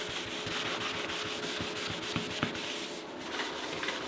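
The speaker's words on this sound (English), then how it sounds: "let's get started by sandpapering and wash off this glue" Steady, close scratching of sandpaper rubbing glue off a hardwood floor, a continuous rough hiss with faint rhythmic strokes throughout and no talking.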